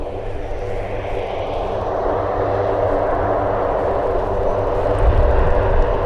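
A fixed-wing aircraft takes off from an airfield runway, its engine a steady, broad droning roar that holds at a fairly close, loud level and swells slightly toward the end.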